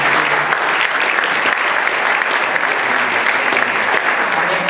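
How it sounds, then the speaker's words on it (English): Conference audience at a youth safety event applauding steadily, a dense, loud wash of clapping that fills the whole stretch without pause. "So if we can give Renee a round of applause."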